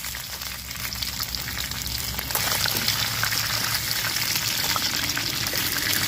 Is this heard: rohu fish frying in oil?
yes